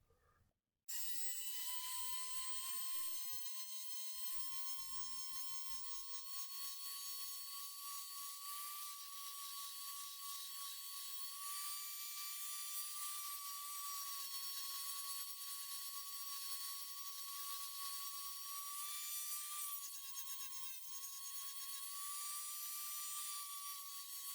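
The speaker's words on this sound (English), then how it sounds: "we're going to be trying to use the sanding wheel." A high-pitched rotary tool with a sanding wheel whines steadily at high speed, grinding a 3D-printed part continuously for over twenty seconds with a bright buzzing edge and no talking.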